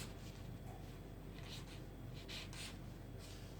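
Marker or chalk writing on a board during a maths lesson on derivatives, a quiet scratchy stroking with short strokes and taps repeating over a soft steady background hiss.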